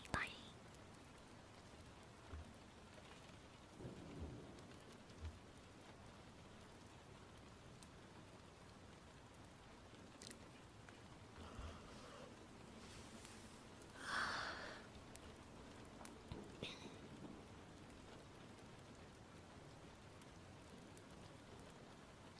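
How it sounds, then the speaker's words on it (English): Soft, steady rainfall patters in the background throughout, with occasional faint whispers and breaths nearby. "Sound effects, that's raining outside."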